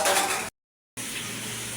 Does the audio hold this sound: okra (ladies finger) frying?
yes